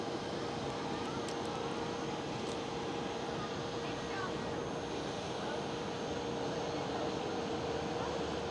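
An American Airlines Boeing 787 passes at Schiphol airport, a steady, moderately distant jet roar holding an even level throughout with a faint whine on top.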